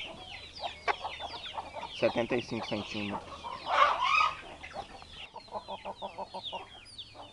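Young Indian Giant mixed-breed hens clucking and cackling close by while being measured and weighed, with repeated short clucks and one louder squawking burst, under intermittent speech.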